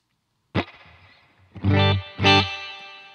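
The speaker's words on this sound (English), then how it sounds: "So I've got this Cattle and Bred Topanga spring reverb pedal here set up on the high frequency loop." An electric guitar plays three picked notes and chords through a Catalinbread Topanga spring reverb pedal on the high-frequency loop of a crossover. Each attack leaves a bright, splashy reverb tail ringing off before the next one.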